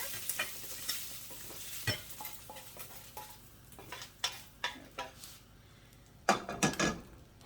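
Pork stir-fry meat sizzles steadily in a hot pan with a constant frying hiss, broken by scattered clicks and scrapes of stirring against the pan; no one speaks.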